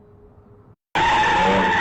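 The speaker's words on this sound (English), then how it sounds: "a car wildly spinning at the Lamb and Hacienda intersection, going around in circles" A car doing donuts at the Lamb and Hacienda intersection in Las Vegas: a dull low rumble cuts out briefly, then tires erupt into a loud, sustained screech as the car spins.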